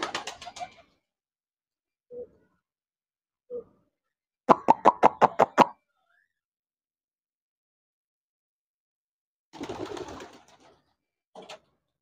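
Sirazi pigeons coo close by in separate bursts, with a few short low calls, one rapid pulsing coo run in the middle and a couple of later murmuring coos, all with silence between and no talk.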